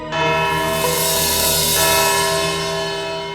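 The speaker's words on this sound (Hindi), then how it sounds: "घंटी बज गई" A single courtroom bell rings out with a rich, sustained tone, its overtones lingering and slowly fading over a few seconds with no one speaking.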